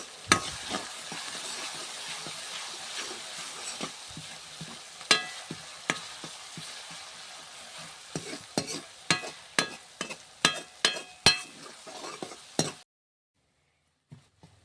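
Homemade amla hair oil stirred and simmered in a pan, with a steady sizzle broken by repeated scraping strokes of the spoon that grow sharper and more regular toward the end, then sudden silence.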